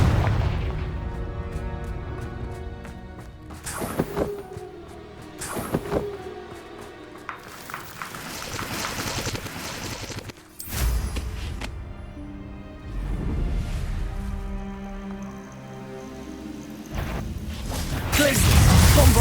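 Spell-casting explosions in the Hogwarts Legacy video game, a fiery Confringo blast among them: several sharp booming bursts with whooshes and mechanical clatter spread over the stretch, under layered game music.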